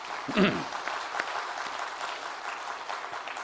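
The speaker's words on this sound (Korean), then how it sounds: "우리 서로 격려 박수 한번 하겠습니다" Applause from a church congregation during a Sunday worship service, a broad spread of clapping that carries on steadily, with a brief voice near the start.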